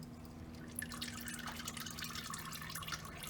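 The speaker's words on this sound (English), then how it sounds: "You can let it drain a little bit just to avoid the mess." Engine oil drains from a 2002 Chrysler PT Cruiser into a pan as a quiet, steady trickle with faint drips, close by and with no talk.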